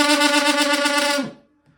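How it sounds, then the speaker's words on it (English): A flexible plumbing tube blown through a trombone mouthpiece gives one loud, buzzy, brassy sustained note that holds steady for about a second before cutting off abruptly. "it occurred to me that it would fit my trombone mouthpiece really well."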